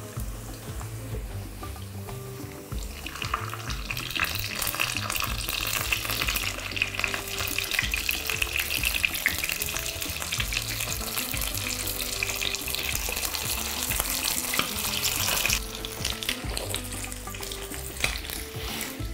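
Okonomiyaki pancakes fry in a pan with a continuous, hissing sizzle that stays steady and moderately loud over a long stretch, with no voices.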